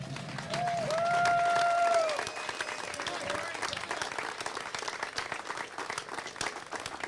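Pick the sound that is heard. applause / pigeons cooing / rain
applause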